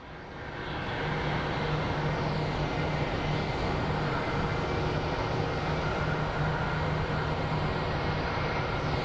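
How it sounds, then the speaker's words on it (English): Small CRJ regional jet coming in to land at Phoenix Sky Harbor Airport, its engine roar swelling in over the first second or two and then holding as a loud, steady rush with no voices. "we're about to get the little CRJ coming in."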